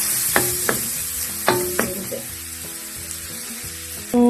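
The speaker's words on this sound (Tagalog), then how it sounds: "Gisa natin" Garlic and ginger sauté in a pan for a Bohol-style paklay, a close sizzle punctuated by four or five sharp metallic spatula strikes and scrapes, then a louder burst near the end.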